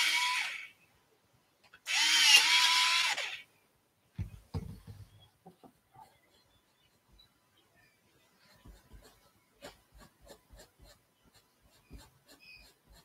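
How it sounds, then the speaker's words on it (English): A colored pencil is sharpened in two close, buzzing bursts of a small sharpener, followed by faint scattered taps and handling clicks of pencils on paper. "I'm just going to go in and just sharpen this again."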